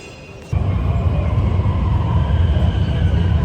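A crowded Chengdu Line 1 metro train rumbles loudly and steadily. The noise starts abruptly after a brief quieter moment, and the low roar continues unbroken to the end.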